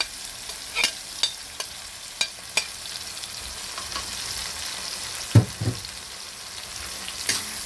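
Pork sautéed with bagoong alamang shrimp paste in plenty of oil sizzles steadily at close range, broken by several sharp scraping stirs of a spatula against the pan; no voices.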